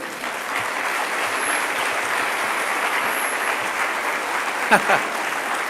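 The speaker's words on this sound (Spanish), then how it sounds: "Denle un aplauso a Dios." A church congregation applauds during a sermon on praise music, a steady dense wash of clapping that holds evenly throughout, with a couple of brief louder bursts near the end.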